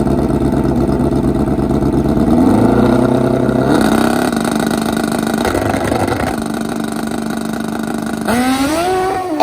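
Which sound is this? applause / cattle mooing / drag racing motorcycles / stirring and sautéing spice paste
drag racing motorcycles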